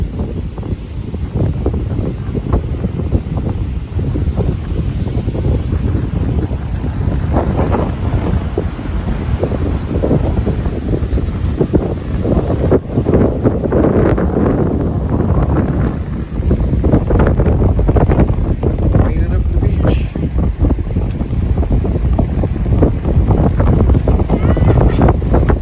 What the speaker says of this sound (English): The wind today.